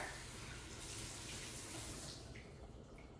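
Tap water runs steadily into a kitchen sink to cool hot food while dinner is cooked, a continuous broad splashing rush that stays loud throughout and eases slightly near the end, with no voices.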